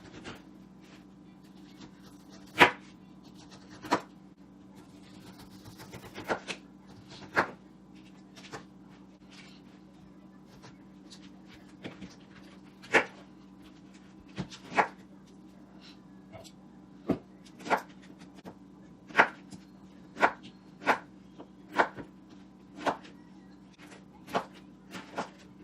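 A sharp knife chops through a pineapple on a board in a kitchen, sparse crisp cuts landing at irregular intervals against a steady low hum, fairly quiet and close.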